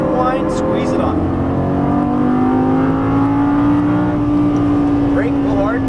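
A Lamborghini Gallardo LP550-2 engine pulls hard on a race track, a loud steady drone that climbs smoothly in pitch as the throttle is squeezed on, heard from inside the car.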